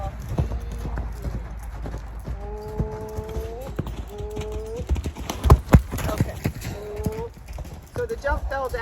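Tennessee Walking Horse cantering in an arena, rhythmic hoof clip-clop repeating close by, with a person talking over it and a few higher whinny-like tones near the end.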